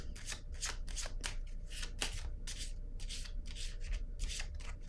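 A deck of tarot cards is shuffled by hand in quick repeated bursts, a crisp riffling and flapping heard up close and fairly quiet, with no voices.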